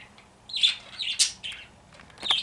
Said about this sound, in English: Those are my 2 parakeets.